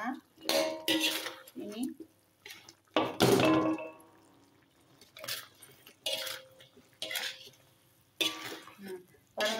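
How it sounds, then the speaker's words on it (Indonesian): A utensil stirs curly red chilies and spring onions in a pot, making bursts of clattering, scraping metal knocks between pauses, while a person speaks briefly nearby. "Kita aduk-aduk sebentar"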